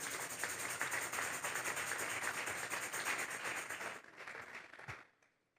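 A church congregation applauding: dense, sustained clapping that holds steady for several seconds, then thins and fades out with a few last claps.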